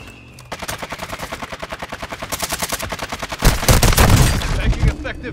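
Rapid automatic gunfire rattles steadily in a military video game, a dense stream of shots that swells into heavier, louder bursts near the end, with no voice over it.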